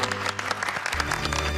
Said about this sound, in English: Please give a big round of applause to our very special guest, Colonel Hatfield.